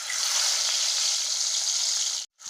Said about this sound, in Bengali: তেল গরম হয়ে গেছে, মাছগুলো এখন আমি দিয়ে দিচ্ছি।